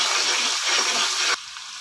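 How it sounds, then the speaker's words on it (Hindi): Water is poured into a pan of frying spices for aloo palak, producing a loud, steady hissing gush that cuts off sharply near the end, leaving a quieter background. "अब मैं इसी के साथ इसके अंदर ऐड करूंगा थोड़ा सा पानी, ताकि मसाला हमारा जले नहीं"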